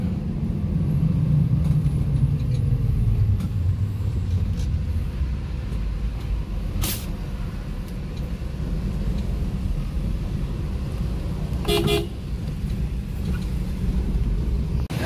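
Steady traffic rumble at Terminal A bus station in Palembang, a continuous low drone of idling and passing buses with a couple of brief sharp clanks and squeals.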